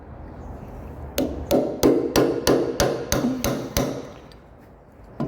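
A hammer strikes a punch about a dozen times to drive a part out in a workshop, sharp metallic blows at a steady, fairly quick rhythm, close and loud, slowing slightly toward the end.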